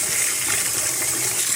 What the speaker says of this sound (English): I have some rice that I'm going to wash.